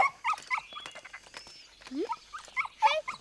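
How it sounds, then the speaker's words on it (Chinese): Small, high-pitched whimpers and yips from a puppy come in quick, uneven bursts, close and fairly soft against a quiet background. "小狗儿"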